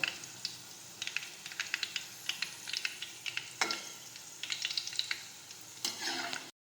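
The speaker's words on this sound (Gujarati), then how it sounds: "હવે આપણો ભીંડો છે તે એકદમ સરસ તળાઈ ગયો છે" Okra sizzles softly frying in oil in a pan while a utensil taps and scrapes now and then, with a couple of sharper clatters near the end.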